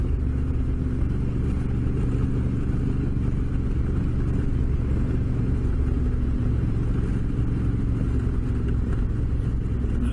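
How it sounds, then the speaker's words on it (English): Continuous heavy low engine rumble and road roar from riding along a desert road as a huge truck passes, loud and steady throughout with no voices. "Huge truck."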